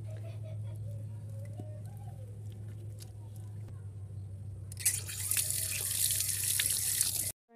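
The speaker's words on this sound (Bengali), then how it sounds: "আমি হাত ধুয়ে দেখাচ্ছি কেমন ছানা হইল" Hands lathered with homemade neem leaf soap are rinsed under a running tap, water splashing and rushing loudly in the second half, over a steady low hum.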